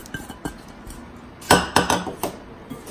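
A utensil clinks and knocks against a small bowl while cauliflower pizza ingredients are mixed, giving a few soft taps and then four louder close scraping strikes, with no voices.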